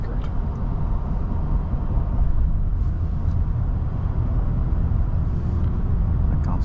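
A 2023 Ford F-150 Lightning electric pickup accelerates, heard from inside the cab as a steady low road rumble and tire drone with faint wind, no engine note, holding evenly throughout.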